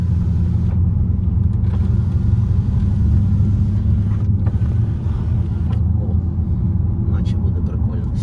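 A Dodge Challenger SRT 6.4 Wide Body's engine rumbles loud and deep from inside the cabin at a steady idle, while someone talks over it.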